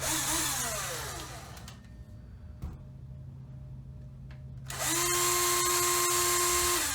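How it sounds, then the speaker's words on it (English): An electric drill whines loudly at close range, winds down to a low idle hum, then spins back up to full speed, steady and continuous. "I can drill a bigger hole using this guy"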